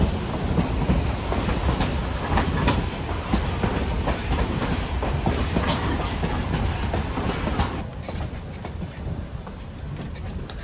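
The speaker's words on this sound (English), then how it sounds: "During this climb, your locomotive will remain at full power with a noticeable change in its sound." Durango & Silverton steam locomotive working at full power up a grade beside the Animas River, a dense, continuous rumble and chuff with rail clatter, loud and steady, easing slightly near the end.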